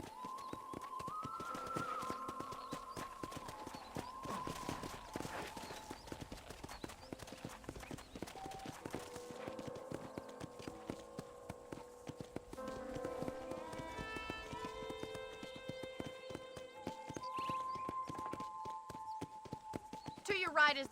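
Horse hooves clip-clopping in the video game Red Dead Redemption on a ranch, a steady, quick rhythm of hoofbeats running under a spoken voice and light in-game music.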